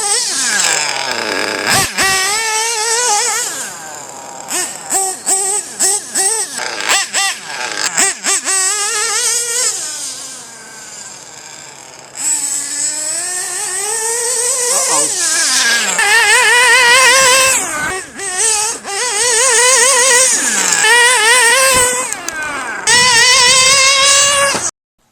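A small nitro engine runs after tuning, revving loudly and repeatedly in sharp bursts, with pitch sweeping up and down through the whole stretch and brief cut-outs between runs.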